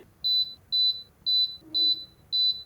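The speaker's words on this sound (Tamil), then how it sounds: "பீப் சவுண்டு வந்துருச்சுங்க" A home milk maker signals the end of a ragi milk cycle with five evenly spaced, high electronic beeps, each about a fifth of a second long, close and clear over a quiet room.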